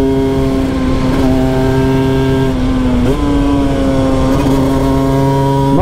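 A Cagiva Mito Evo 125 motorcycle climbs a mountain road from the rider's position. The engine drones steadily at a high pitch, with clear pitch jumps from gear changes about halfway through and again later.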